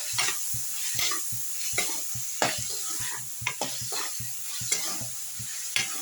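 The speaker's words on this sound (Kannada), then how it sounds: "ಇವಾಗ ಚೆನ್ನಾಗಿ ಮಿಕ್ಸ್ ಮಾಡ್ಕೊಳ್ಳೋಣ." A vegetable fry being mixed with turmeric and salt in a hot pan: quick, regular scraping strokes over a constant loud sizzle, close up with no talking.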